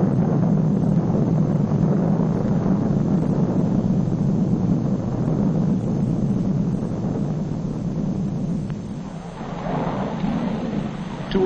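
A military aircraft flies overhead, making a loud, sustained engine roar and rumble that fills the whole stretch and eases slightly toward the end. No voices are heard.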